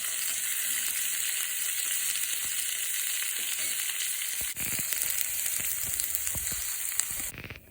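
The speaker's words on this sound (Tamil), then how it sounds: "கடாயில் ஆயில் போட்டுட்டு குடமிளகாய நல்லா வதக்கி எடுத்துக்கிறணும்." Capsicum sautéing in oil in a kadai gives a constant bright sizzle, with scraping and stirring knocks joining in toward the end as the pan is worked.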